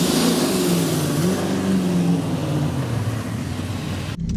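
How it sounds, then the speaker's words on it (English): A turbocharged four-wheel-drive Daihatsu Mira race car revs hard at the start line beside a V8 supercar, a loud close engine drone rising and falling in pitch before cutting off abruptly near the end. "I'm racing a Daihatsu Miura against a V8 supercar."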